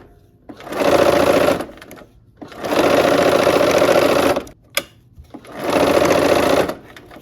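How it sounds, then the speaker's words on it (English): Sewing machine stitching a pieced quilt block, running in three steady bursts of about a second or more each, loud and close, with short pauses between. "All right, let's go ahead and sew."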